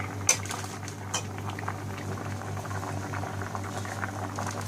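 Sweet colored matanjan rice in a pot with a spoonful or two of oil added, a spoon scraping and clinking against the pot over steady bubbling and sizzling, with a couple of sharper knocks, close and moderately loud.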